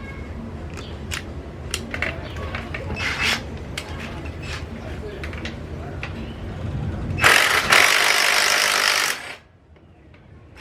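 An impact wrench removes bolts on a Victory Hammer motorcycle in a garage, with repeated short rattling clicks and taps followed by a loud sustained burst of buzzing hammering near the end before stopping.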